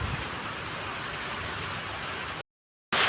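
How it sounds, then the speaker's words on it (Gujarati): Heavy downpour at Pipavav Dham lashed by strong wind: a loud, dense, unbroken roar of rain that drops out abruptly for a moment before surging back even harsher. "ફૂલ પવન સાથે વરસાદ છે અને ફૂલ ધોધમાર વરસાદ પડે છે"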